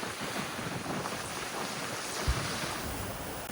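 Strong wind roars steadily across the microphone aboard a sailboat at sea in rough 24-knot conditions, with waves washing and slapping against the hull and a brief thump partway through; no one speaks.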